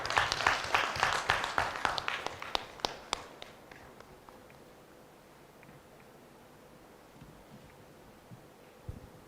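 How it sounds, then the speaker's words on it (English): Conference audience clapping to welcome a presenter at a national climate conference. The applause is dense and lively at first, thins to scattered claps after about three seconds, then fades into a quiet room with a faint hum. "Please, let's keep clapping for him."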